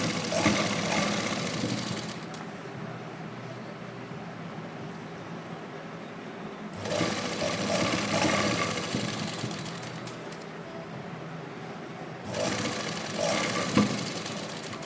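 A sewing machine stitching lace onto fabric runs in short bursts, a steady mechanical whir that starts, stops and starts again, fairly quiet and close with no talking.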